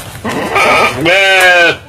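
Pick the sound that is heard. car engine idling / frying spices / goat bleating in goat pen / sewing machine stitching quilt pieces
goat bleating in goat pen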